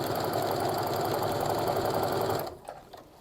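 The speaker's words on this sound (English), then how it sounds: "I can lay them right sides together and sew them." A sewing machine stitches fabric rectangles together in a fast, even, rapid mechanical whir, close and steady, then stops abruptly, followed by a few faint handling clicks.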